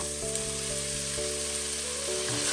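Tuna fish, about 150 grams, hits a hot pan and sizzles steadily at close range, a continuous hissing fry with a faint low hum beneath.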